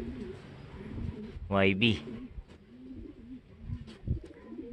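Pigeons at a racing loft during a derby lap, with one bird's clear rolling coo standing out briefly near the middle, while someone talks steadily over faint background bird sounds.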